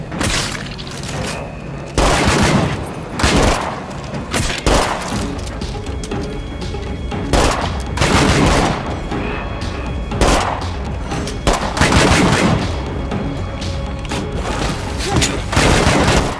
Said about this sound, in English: most of those bullets are just going into the wall, they aren't actually hitting the plague heart